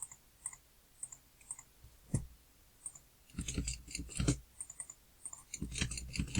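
Computer keyboard tapping in bursts while entering an accounting worksheet, sparse single clicks at first, then quicker clusters of close, light keystrokes with no voices.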